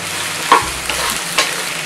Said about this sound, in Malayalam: ഇനി ഇത് നന്നായിട്ട് വഴറ്റിയെടുക്കണം